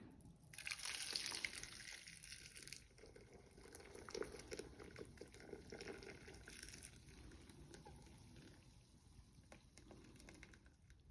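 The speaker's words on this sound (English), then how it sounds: "and just pour in your marinade." Teriyaki marinade pours over a large batch of chicken in a faint, wet splashing and trickling that streams steadily with small drips, with no talking.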